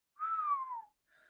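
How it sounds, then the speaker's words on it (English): A person whistles a single clear, falling note up close, then a quieter, shorter tone follows after a brief pause. "I apologize for everyone for whistling into the podcast"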